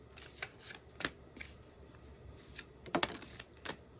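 Titan tarot cards are shuffled in quick, soft riffles and flicks, close and quiet, with irregular bursts of papery clicking and no talking.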